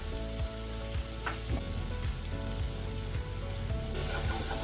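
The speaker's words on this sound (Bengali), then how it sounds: "এবার মশলাটা একটু কষতে হবে।" Spices and Kashmiri red chili sizzle steadily in hot oil in a pan while being stir-fried for matar kachori and aloo dum, a continuous close crackling hiss with occasional soft scraping of the spatula.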